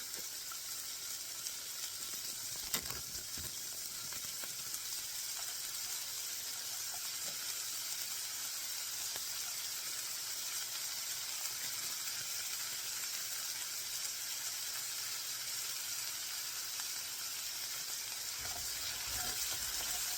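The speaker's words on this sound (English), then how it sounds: "Let me get a little of my chopstick garlic in here" Garlic and chicken fry in a stir-fry pan with a steady, bright hiss of sizzling oil, continuous and close, with a few faint clinks of utensils.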